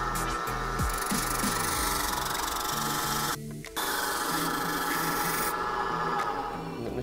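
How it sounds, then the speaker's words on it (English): A wooden lathe used for carving runs in a wood workshop, giving a steady, loud, continuous whirring and rubbing hum with a brief dip partway through. "you have this wooden lathe, which I think you use for carvings and stuff"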